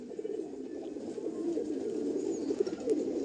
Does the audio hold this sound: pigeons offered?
yes